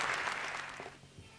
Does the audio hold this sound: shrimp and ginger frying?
no